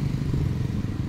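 A motorcycle on the road ahead, its engine a steady, loud, low drone throughout the short stretch with no voices.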